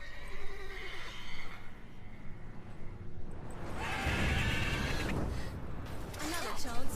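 Horse whinnying in The Witcher 3 video game, a mare awarded after a race wager, with a loud neigh near the end over game ambience, soft hoof clip-clop and a voice speaking.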